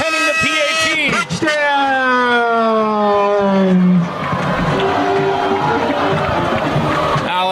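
A high school football crowd roars after an Orem Tigers touchdown against Timpview. Loud, sustained cheering comes with whistles or horn-like tones falling in pitch over the first seconds, then settles into a steady roar.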